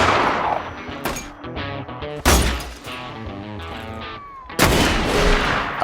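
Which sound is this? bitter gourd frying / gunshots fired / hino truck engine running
gunshots fired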